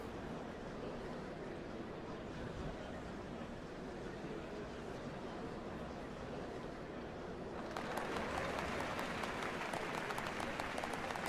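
A large crowd applauds at the changing of Dawn Servants, a continuous distant wash of clapping that swells noticeably louder and brighter partway through.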